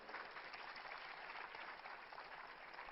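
A church congregation claps in applause, a steady, even wash of many hands that is faint and distant, continuing without pause and with no talk over it.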